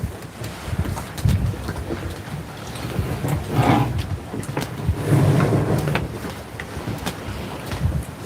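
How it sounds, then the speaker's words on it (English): Wind blowing outdoors in steady, rumbling gusts, swelling and easing over several seconds with blustery low buffeting against the microphone and no voices. "or the wind keeps blowing it"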